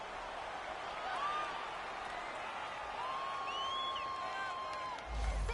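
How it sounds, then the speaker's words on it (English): In an American football video game played on PS4, a home crowd cheers steadily as a wide roar, with whoops and whistles rising over it and a thump near the end. "This home crowd, they're happy with that call."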